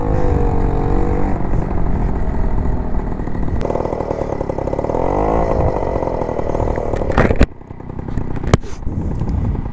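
A Peugeot 103 moped engine buzzes loudly and up close, its two-stroke whine rising as it accelerates, then cuts off abruptly near the end before a couple of sharp clicks.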